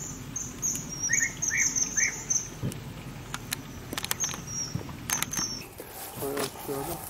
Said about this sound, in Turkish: Kuş sesi ne güzel.